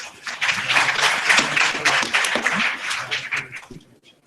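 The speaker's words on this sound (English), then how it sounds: "You can clap now." An audience at a team quiz event applauds with a dense patter of clapping that swells, holds for a few seconds, then thins out and fades.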